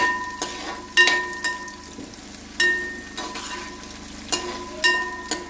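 Sliced onions fry in a pan with a low, steady sizzle, broken every second or so by a spatula scraping and tapping against the pan.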